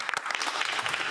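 Applause in the House of Commons during a parliamentary sitting, dense sustained clapping from many members filling the chamber, steady throughout.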